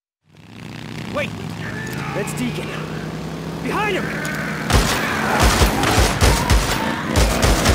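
Gunfire in the video game Days Gone, a burst of sharp repeated shots breaking out in the second half after a stretch of ambient game sound and a brief voice, fairly loud and rapid.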